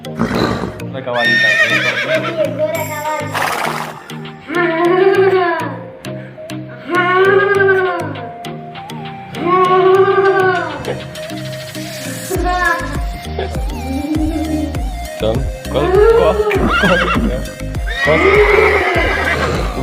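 A voice mimics a horse whinnying, giving about seven loud, quavering neighs in a regular rhythm, close and clear over a steady background hum.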